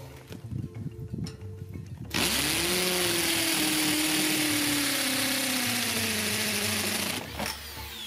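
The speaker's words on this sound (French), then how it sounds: "je perce un trou d'évacuation dans la poche en plastique" A power drill bores a drainage hole through a plastic liner in a raised garden bed filled with sand. Its steady, loud motor whine starts abruptly after a quiet stretch, holds for about five seconds, then stops. No voices are heard.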